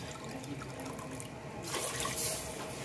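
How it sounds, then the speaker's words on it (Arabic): Water pours into a cooking pot for rice, two and a half measures of water to one of rice, as part of a Moroccan meat and almond dish. A steady close splashing runs throughout and swells louder and brighter in the second half, with no talking. "وغنضيف الماء الكافي اللي غيطيب ليا فيه الروز"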